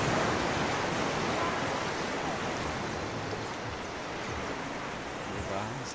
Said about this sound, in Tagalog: Pero yung alon na malakas dito.